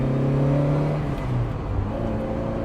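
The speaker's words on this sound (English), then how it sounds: "when you just open those carbs and you hear that V8 behind" A Ferrari 308 GTS carbureted V8 engine revs hard with a deep, throaty roar, rising then easing off, loud and close with no voices.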